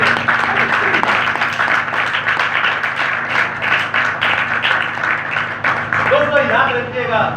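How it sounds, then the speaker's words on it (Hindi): Church congregation applauding at a Pentecostal service, broad clapping spread through the whole stretch with room echo and a faint hum underneath, some voices mixed in. "एक बार फिर से यीशु के लिए तालियां।"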